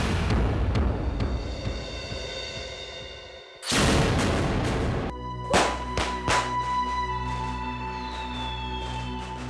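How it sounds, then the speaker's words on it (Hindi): Several sharp booming bursts and crackles pop outdoors at a distance, one loud rushing blast followed by scattered thuds and fizzing whistles. "घर के बाहर आतिशबाजी"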